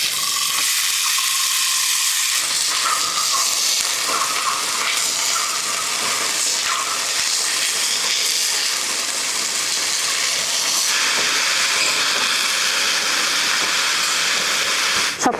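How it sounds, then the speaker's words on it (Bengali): Fiddlehead fern greens with turmeric fry uncovered in a pan, giving a loud, continuous hissing sizzle that holds steady throughout with no talk. "এখন একটু ভাজা হইতে দিই শাকটা"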